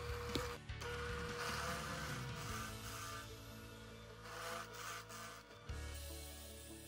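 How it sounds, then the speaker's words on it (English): A cutter grinds and rasps steadily as a channel is cut into a wooden arm for a lathe steady rest, a continuous close workshop sound with small dips and bursts. "Each arm needed a channel cut into it for the adjustment clamp."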